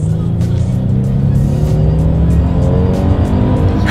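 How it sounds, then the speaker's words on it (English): A Kia Telluride SUV accelerates hard in sport mode, its engine droning loudly and climbing steadily in pitch from inside the cabin. "let's see how quickly we can get this new Kia Telluride up to speed"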